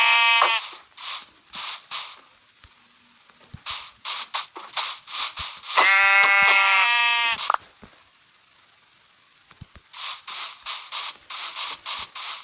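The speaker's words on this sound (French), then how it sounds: "Oh, des moutons." Sheep bleating in a video game, several wavering bleats in short bursts separated by quiet gaps, with one long loud bleat in the middle, heard alone and close.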